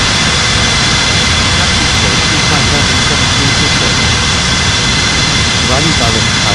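Jet airliner engines roar steadily through a takeoff on runway 27 at Bali airport, a dense, loud, unbroken wash of noise with air-traffic radio voices talking over it.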